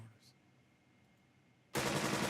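A burst of rifle squad gunfire in the video game Burden of Command erupts suddenly after near silence, loud and sustained to the end.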